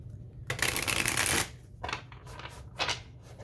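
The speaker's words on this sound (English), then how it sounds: "I'm going to give one more shuffle though." A deck of tarot cards is shuffled close up: a long dense riffling burst followed by a few shorter, softer card slaps and shuffles.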